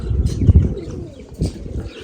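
Pigeons kept by a fancier coo close by, two bursts of low throaty calls with soft rustling between them, fairly loud and without speech.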